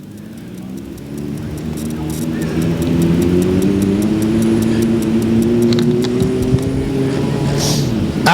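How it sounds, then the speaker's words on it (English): Sportsman race cars running laps at a dirt raceway, a dense, continuous engine roar from several cars that builds and holds loud, with no talk. "Sportsman cars on the track."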